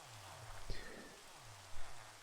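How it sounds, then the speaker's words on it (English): Rain falls in Minecraft as a steady soft hiss, with a few low tonal game sounds and a brief thump on top, and no voices. "then it started raining"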